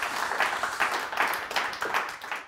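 Brief round of clapping from a modest audience at an awards evening, fairly faint and uneven, fading out near the end.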